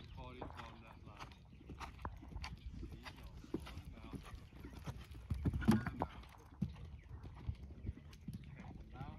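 Horse hooves clip-clopping in a steady rhythm during a riding lesson, moderately close, with an instructor's voice talking over the hoofbeats throughout.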